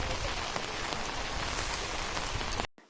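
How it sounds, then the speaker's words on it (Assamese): Steady rain pours onto surfaces outdoors in a village, a dense, even hiss of drops that fills the scene without voices before cutting off abruptly near the end. "চাওক এতিয়াও বৰষুণ দি আছে।"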